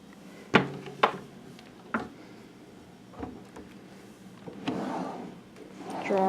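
Hotel room drawers slide open and shut, giving a few sharp wooden knocks and thumps spaced a second or so apart, followed by softer sliding rumbles nearby.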